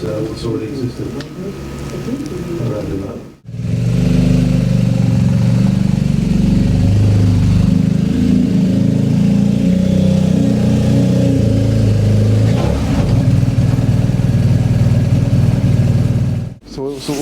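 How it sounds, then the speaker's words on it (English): A BMW R1250GSA motorcycle on a dyno during a baseline run, its engine revving loud and steady with a brief dip near the start and another near the end, and voices talking over the droning engine. "We're going to do the initial dyno run."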